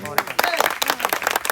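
An audience breaks into dense, crackling applause, many hands clapping at once close by, running beneath a voice talking over it.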